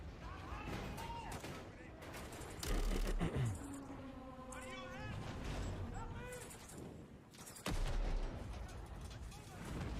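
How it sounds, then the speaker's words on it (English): Gunfire in a video game trailer gunfight: sharp gunshot bursts and rattling volleys come and go, with a heavy blast early and another near the end, while voices talk between the shots. "Let's have ourselves a gunfight."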